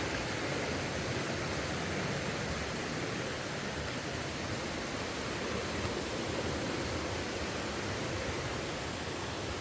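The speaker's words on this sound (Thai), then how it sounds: "น้ำตกปลาละอุงอยู่ที่หัวหินเด้อจ้ะ" Pa La-u waterfall near Hua Hin pours in a dense, steady roar of rushing water, a constant broadband wash with no pauses and no voices.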